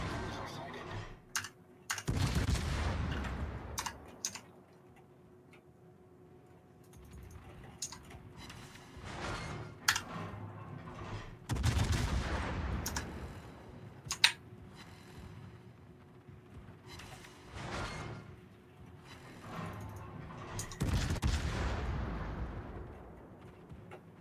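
Heavy shells strike the player's warship in World of Warships, three booming broadband impacts spaced several seconds apart, with keyboard clicks and someone talking between them.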